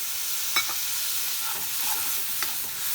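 Water splashed into a pan of frying onions and cabbage kofta masala, producing a steady hiss and sizzle with a few brief stirring scrapes and clinks.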